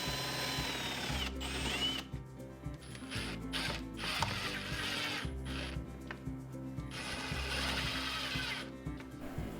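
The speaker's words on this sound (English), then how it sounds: "I'm going to cut the hole with a Forstner bit" A drill with a Forstner bit whirs and grinds close by, cutting a hole in material almost half an inch thick, in several bursts separated by short pauses, with a mechanical rattling edge.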